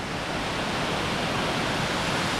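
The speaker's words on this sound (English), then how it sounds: "I want to see this other little waterfall that's coming over here, that's going down." Water pours steadily over Rutledge Falls, a waterfall in Tullahoma, Tennessee, making a constant rushing roar, moderately quiet and unbroken, with no talk.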